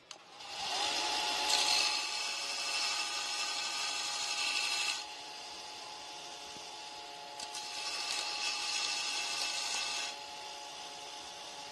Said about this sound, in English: Let me grind some of this down here.